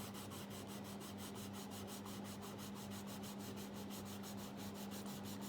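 A blue coloured pencil is burnished across paper in quick, regular back-and-forth strokes, a soft rhythmic rubbing scratch repeated steadily and heard up close under a faint constant hum.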